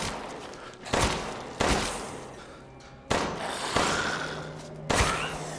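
Gunshots in the video game Resident Evil Village, five loud single blasts spaced irregularly about a second apart, each with a sharp crack and a decaying tail over a murky ambient bed.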